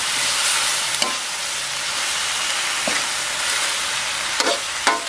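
Kale stir-fried in a hot pan, a loud continuous sizzle and hiss with a few scattered scrapes of the spatula, close up and with no talking.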